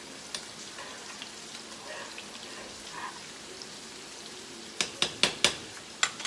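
Salmon sears in a hot pan, a soft continuous sizzle with scattered pops and crackles, then a run of sharper spits and bursts of spattering fat near the end.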